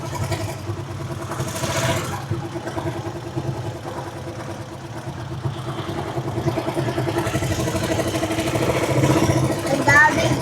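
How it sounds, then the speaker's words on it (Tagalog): Many motorcycles parked together with engines idling and clattering, some revving nearby, as voices talk over the mechanical rumble. "Ang daming motor."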